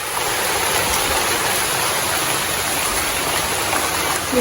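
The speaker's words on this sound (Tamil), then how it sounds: "நல்லா இப்போ பாருங்க சரியான மழை தான் பெய்யுது" Heavy rain pouring down steadily, a dense, loud and unbroken hiss with no pauses or talk.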